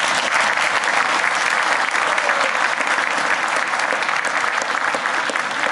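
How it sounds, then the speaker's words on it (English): Loud, sustained applause from a library audience for a panel discussion, a thick, even roar of many hands clapping close by without a break. "so let's give them a round of applause."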